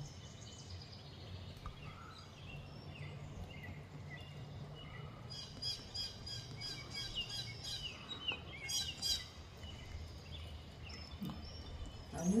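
Birds call outdoors, with a northern flicker and house finches among them. Faint chirps and short twittering bursts sound over a soft background hum, growing denser around the middle.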